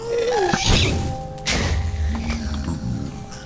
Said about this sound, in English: I hit the little explosion ball that he shot at me and bounced it back towards him